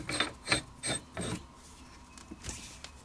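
A handguard threaded by hand onto the barrel of a Just Right (JR) Carbine, giving several short ratcheting, scraping clicks in quick bursts, fairly close, then a couple of fainter ones.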